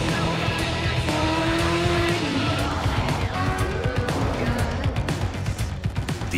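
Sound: 2022 GMC Hummer EV electric truck accelerating hard

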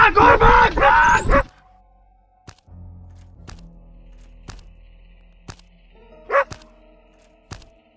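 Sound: dog barking in the horror game Endless Nightmare

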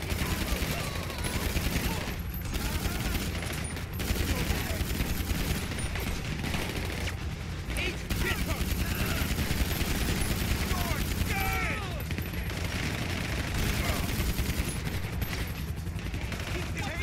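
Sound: pistol gunshots in video game GTA V

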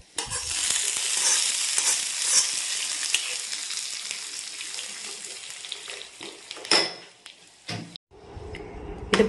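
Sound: chillies and curry leaves sizzling in hot oil, okra pachadi tempering

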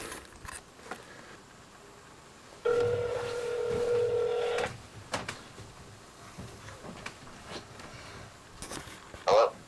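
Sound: telephone dialing for a speakerphone call

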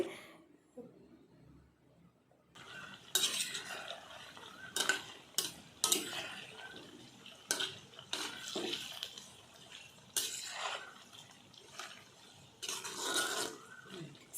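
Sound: chicken frying in pan for pickle, being stirred

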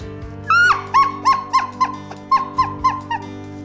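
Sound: elk bugle call imitation: growl, bugle, whistling chuckle

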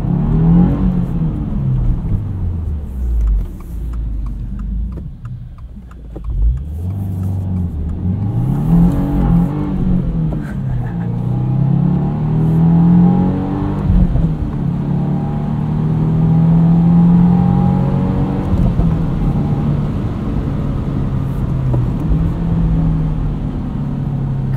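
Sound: 2022 Subaru WRX manual engine revving while shifting gears

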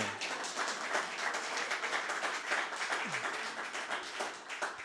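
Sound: audience clapping

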